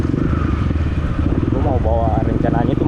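A Kawasaki KLX BF 150 motorcycle engine idles with a loud, close, throbbing chug, then revs up in short blips near the end, rising and falling in pitch.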